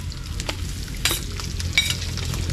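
Chili, onion and garlic sauté in a hot pan with a steady close sizzle and crackle, plus a couple of brighter bursts as the pan is stirred.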